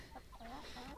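Chickens in a homemade, low-cost coop give a few soft, brief clucks, quiet and close, over faint background noise.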